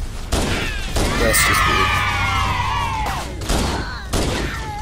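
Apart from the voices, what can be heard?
pistol shots at an elite in the video game Halo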